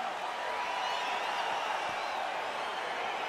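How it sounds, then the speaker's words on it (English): An arena crowd in EA Sports UFC 4 cheers as the Volkov versus Belfort bout gets underway, a steady, even roar of whooping spectators with no standout peaks, heard at a moderate distance. "Crowd getting excited as this fight gets underway"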